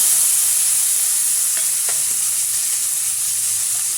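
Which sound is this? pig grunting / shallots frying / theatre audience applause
shallots frying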